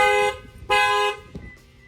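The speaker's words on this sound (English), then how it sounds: "Somebody bangs on any of the tires," A 2020 Lexus GX460 factory alarm sounds nearby in loud, harsh honking blasts. There are two sustained bursts and then a short chirp, with quieter pauses between them.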